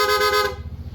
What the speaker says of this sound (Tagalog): PIA horn, long press, rapid